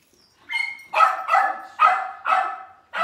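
Dog barking indoors, about five loud, close barks in an uneven rhythm with no talking over them.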